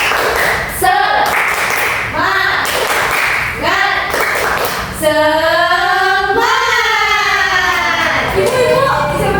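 A group of children in a class guidance session clap a rhythmic 'tepuk semangat' pattern in quick, loud bursts, then voices break into a drawn-out chant.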